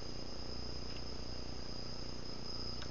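Steady, high-pitched cricket chirping fills the air continuously, a soft, even trill against quiet background hiss.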